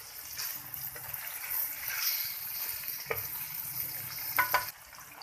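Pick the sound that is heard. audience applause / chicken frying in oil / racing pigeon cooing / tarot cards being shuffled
chicken frying in oil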